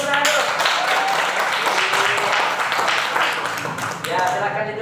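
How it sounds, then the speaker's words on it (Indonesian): A group of people claps steadily and densely, the applause mixed with overlapping voices and chatter throughout, fading slightly near the end. "Ayo, tepuk tangan, kasih tepuk tangan dulu"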